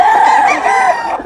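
A mature rooster crows close and loud in a single drawn-out call.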